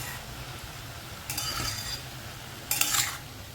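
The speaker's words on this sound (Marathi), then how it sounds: "ही भाजी अशी मध्ये मध्ये हलवायची जरा" Fodshi, a monsoon wild leafy vegetable, being stirred in a cooking pan, with two brief scraping bursts of utensil against the pan over a quiet background.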